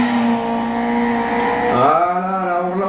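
Clio Cup race car in Gran Turismo 6 on the Côte d'Azur circuit, engine note held steady then dropping and climbing again as it accelerates through the tunnel, loud and close with a rising rev pitch.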